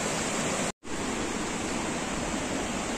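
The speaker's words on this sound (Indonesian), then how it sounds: "di depan kita ini ada satu air terjun" The Langkuik Tinggi waterfall in West Sumatra roars in a loud, unbroken wash of rushing water that cuts out for a split second early on.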